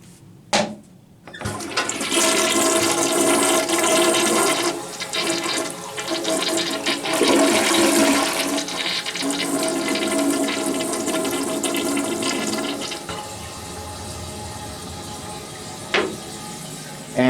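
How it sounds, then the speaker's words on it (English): An American Standard standard-flow toilet in a hotel room flushes with a loud, rushing swirl of water that lasts over ten seconds. It fades into a quieter refill hiss, and a couple of clunks mark the start and end. "It's a standard flow toilet."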